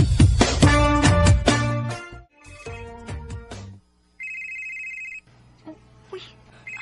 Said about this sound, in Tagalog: Uy, nanawag man.